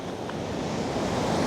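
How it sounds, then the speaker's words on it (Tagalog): Strong ocean waves roll onto a remote beach in General Nakar, Quezon, a loud continuous roar of surf with wind buffeting the microphone, no talk. "Lakas ng alon. Tatangayin ka talaga ng alon."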